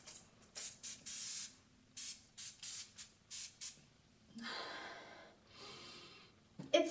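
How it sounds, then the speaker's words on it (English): An aerosol face mist from a Sephora haul is sprayed in a run of short, close hissing bursts, about ten quick puffs, then a couple of longer, softer sprays, with no talking. "Okay, it's an aerosol."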